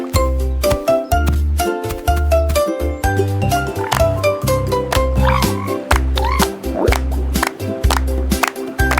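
Cartoon frog croaks in a lively children's song, repeated rhythmic croaking over bouncy music and bass, loud and upfront throughout.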